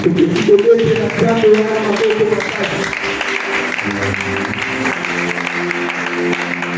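A church congregation at a Friday teaching service bursts into applause and acclamation for the Lord, loud dense clapping and cheering with voices mixed in, settling into a steady sustained din.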